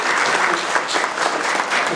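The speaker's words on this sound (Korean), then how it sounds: "우리 오늘 위촉까지 지도위원님께 큰 축하의 박수를 부탁드립니다" A seated audience at a year-end seminar gives brief congratulatory applause for newly appointed advisory members, dense steady clapping from a crowd with no one talking.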